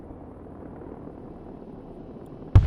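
Attack helicopters in the war game Broken Arrow produce a low, steady rotor rumble at moderate loudness, ending in a sudden loud blast-like burst.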